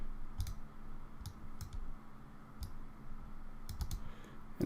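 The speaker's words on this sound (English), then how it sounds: "go ahead and double click on it and flip vertically" A computer mouse clicks sharply and close by, with several quick double-clicks spaced across a quiet background.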